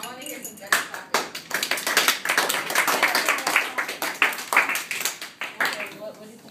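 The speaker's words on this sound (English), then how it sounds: "I want to hear some better clapping" A classroom of students claps together in a steady burst of many hands, fairly close and dense, with voices mixed in under the clapping.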